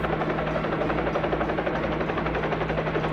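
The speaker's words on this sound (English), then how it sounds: "Turn the helicopter on, Vaco." Cartoon helicopter starting up, a steady close rotor drone and buzz holding at an even level throughout with no talking.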